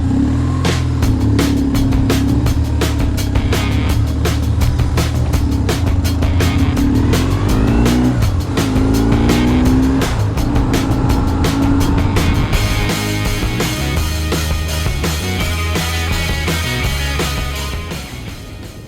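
A BMW R1150R motorcycle on a Glencoe run in Scotland gives a loud, steady engine drone with rising and falling revs as it rides, heavy wind roar throughout, and the sound easing near the end.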